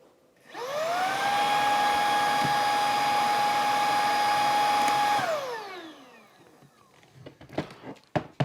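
A Shark IZ251UK cordless vacuum cleaner spins up with a rising whine, holds a steady loud motor tone for several seconds, then winds down, followed by a few soft clicks and handling knocks nearby.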